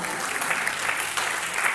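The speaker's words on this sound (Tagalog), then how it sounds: "O bakit bumagal yung palakpak nyo?" A church congregation claps together in steady, fairly loud applause, the dense patter of many hands filling the whole moment without voices.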